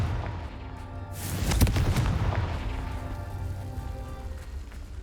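A Confringo fire spell in the Hogwarts Legacy video game bursts into a loud blast with a sharp crack, then rumbles and fades over a few seconds against a low continuous background drone.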